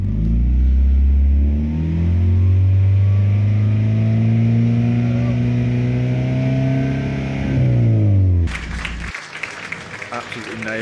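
A Mazda MX-5 engine revs hard at a race track noise test, a loud rising and falling howl with gear-like pitch sweeps, ending abruptly into a burst of broadband noise.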